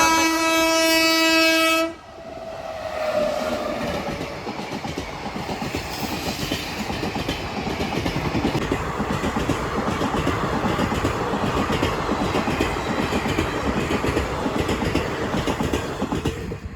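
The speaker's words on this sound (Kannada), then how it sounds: "ಟ್ರೈನ್ ಬರ್ತಾ ಐತೆ" A train horn blares briefly, then a train rushes past close by with a steady loud rumble and rattling wheels that continues to the end.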